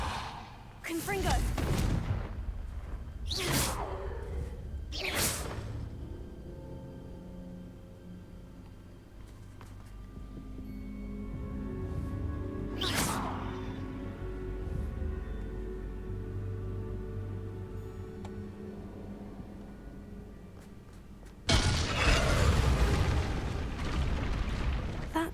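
Confringo fire-blast spells from the video game Hogwarts Legacy burst out as several loud, booming explosions spaced apart, over a low rumbling bed, ending in a dense, sustained roar.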